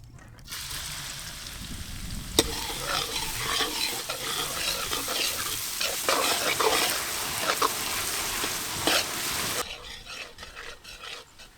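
Chopped onion frying and being stirred in hot cooking oil for a village country chicken curry in Karnataka, a steady close sizzle with scraping and stirring strokes that stops abruptly near the end.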